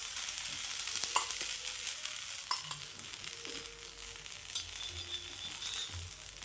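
A potato and paneer paratha cooking in a little oil on a pan gives a continuous close sizzle with occasional stirring scrapes and pops, steady in level and free of speech.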